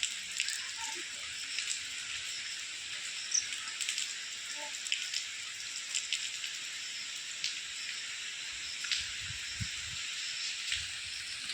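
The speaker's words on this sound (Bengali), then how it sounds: "দেখো আমাদের এখানেও এখনো পর্যন্ত বৃষ্টি হচ্ছে" Steady rain falls outdoors during a stormy day, a continuous soft hiss of drops on surfaces running throughout, with a few low thumps near the end and no talk.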